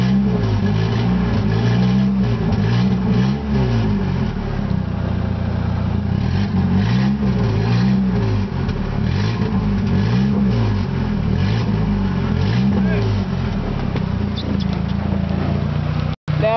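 A 1992 Honda Accord with about 315,000 miles idles after a junkyard cold start with no exhaust system, recorded from underneath the car: a loud, raw, steady engine drone with a rhythmic pulsing throb that runs for about sixteen seconds before cutting off abruptly.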